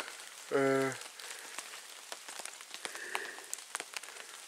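Soft steady patter of rain falling on a bushcraft bivouac camp at night, a continuous hiss with scattered drop taps, briefly interrupted early by a short loud tonal noise.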